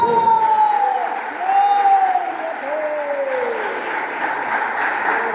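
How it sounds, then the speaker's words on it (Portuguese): A church congregation claps together during a Portuguese-language worship service, a broad sustained wash of applause mixed with voices and a sliding tonal sound running throughout. "Palmas para o Senhor Jesus."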